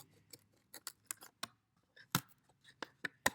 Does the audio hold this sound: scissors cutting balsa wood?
yes